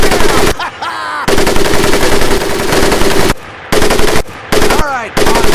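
Machine gun firing in the World War II shooter Medal of Honor: Pacific Assault at a boot camp range, loud sustained automatic bursts broken by brief pauses, with short ringing echoes between bursts.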